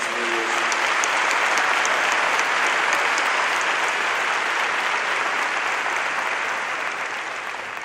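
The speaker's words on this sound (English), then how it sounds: "Please help me give them a round of applause for their hard work over the last 3 years." Graduation audience at the Westlake High School 2019 ceremony applauding the top 20 students, a dense, steady wash of clapping from a large crowd that holds strong throughout and eases slightly at the end.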